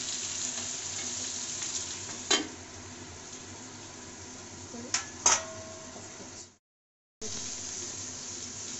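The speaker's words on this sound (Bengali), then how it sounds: "আমার বেগুনটা আলুটা প্রায় ভাজা ভাজা হয়ে গেছে" Eggplant and potato frying in a pan, with a steady low sizzle broken by a few sharp clatters of utensils, then a brief silent gap before the frying resumes, close and with no clear speech.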